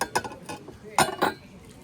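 Several sharp clinks of ceramic soup plates knocking together at a flea market, scattered irregularly, close by and fairly faint.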